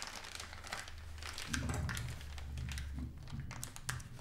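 Plastic piping bag turned inside out and a nozzle slid down into its tip while preparing vanilla panna cotta, giving close crinkling rustles and a few light taps over a low background hum.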